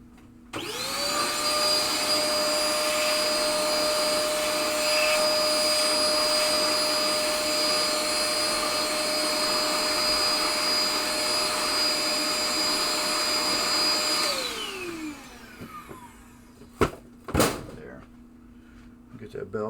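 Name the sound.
vacuum cleaner cleaning crud from pinball machine head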